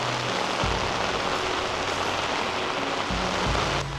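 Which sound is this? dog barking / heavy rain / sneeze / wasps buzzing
heavy rain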